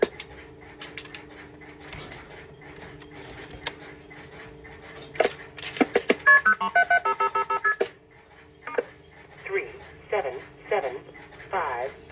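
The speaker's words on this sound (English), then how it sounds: "I'll demonstrate this by dialing the code real quick." A Strowger step-by-step telephone exchange receives a dialed code, giving a dense run of rapid clicking and tone bursts from the switches for a couple of seconds, then intermittent relay chatter and short tones, with voices in the background.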